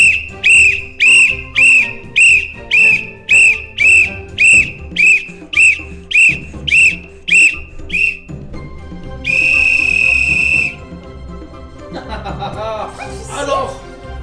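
A man whistles a tune of about thirteen short, evenly spaced notes, then holds one long steady whistle before a brief burst of laughter-like sounds, loud and close in a lively indoor setting.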